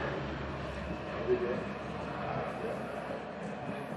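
Canadair firefighting aircraft number 165 arriving, a steady broadband engine drone and low rumble holding level throughout, with people talking over it.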